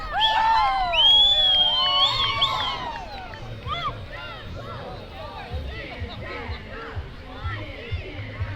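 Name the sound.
4C STEM Club performing a cheer at a parade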